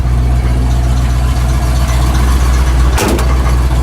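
A Ford F150 truck engine idles steadily with a low, constant rumble throughout, with a brief sharper knock near the end.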